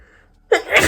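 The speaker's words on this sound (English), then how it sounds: "Oh, I need to sneeze." A single sharp sneeze bursts out after a quiet moment, close and loud, trailing into a breathy release.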